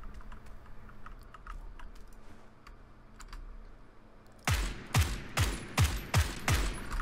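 Silenced UMP submachine gun firing in PUBG, a run of about six sharp suppressed shots in quick succession after a stretch of quiet clicking, fairly loud and close with no talk.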